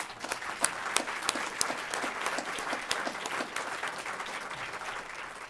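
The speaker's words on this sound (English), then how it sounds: "Let's give them a round of applause." An awards luncheon crowd claps for the recipients, a moderately quiet and steady patter of many hands with a few sharper individual claps standing out.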